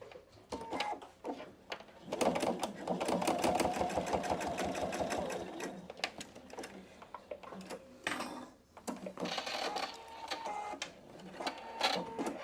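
A PFAFF Expression 720 sewing machine stitches a fabric pouch in fast, steady rhythmic bursts, stopping and restarting a few times, close and clear.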